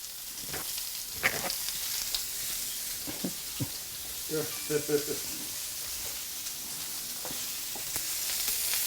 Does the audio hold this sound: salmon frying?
yes